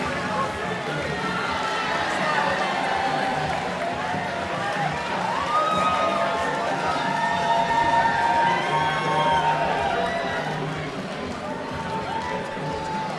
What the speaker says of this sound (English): another round of applause for these fantastic boxers this evening